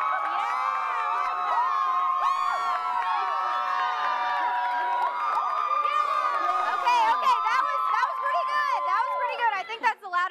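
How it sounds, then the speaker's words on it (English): Spectators in the stands at a sports event cheer for Lauren, a dense, sustained crowd roar with shouts and whoops that stays loud throughout and swells near the end. "So if you think it was Lauren, go ahead and cheer."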